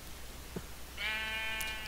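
A sheep in Minecraft gives a single clear bleat, fairly close and alone, after a brief faint thump.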